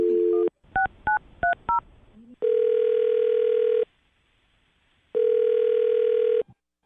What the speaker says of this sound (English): I'm going to dial her number and see if we can get her on the phone.